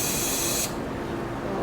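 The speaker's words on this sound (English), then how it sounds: "I'm just spraying it into the cap." Duplicator engine paint for a vintage Yamaha XS650 hisses loudly from an aerosol can into its cap in one close, steady burst that cuts off partway through, leaving a duller background hush.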